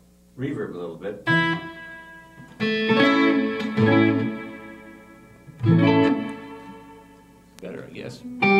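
An electric guitar with its reverb turned down plays in distorted, effected bursts: separate strummed chords ring out and decay between gaps, fairly close and loud.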